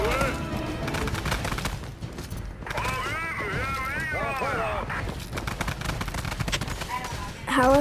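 Rapid bursts of gunfire crackle through a busy Fortnite squads soundscape, with a few whooshing tones in the middle, all fairly loud and continuous.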